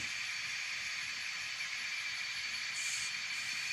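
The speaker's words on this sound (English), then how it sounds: "Right now I got one of my intermodals going." An N scale model intermodal train runs on a home layout, giving a faint, steady whirring hiss that holds evenly throughout with no talking.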